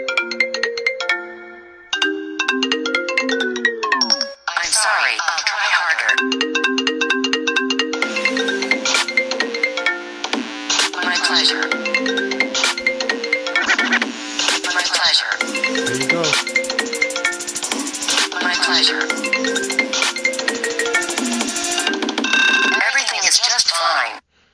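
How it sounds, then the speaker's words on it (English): A Siri remix ringtone plays from the Zedge app, a loud, continuous electronic melody of bright tonal synth notes and chime-like phrases running about 24 seconds with brief dips, no talking over it. "Awesome ringtones here for you, your friends to enjoy. Siri remix."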